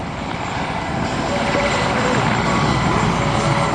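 Several helicopters at the Batajnica airbase open day, a loud steady rotor and engine roar that holds throughout with no voices over it.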